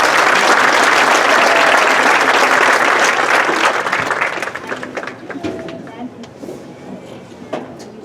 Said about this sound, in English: How about a round of applause for Jody?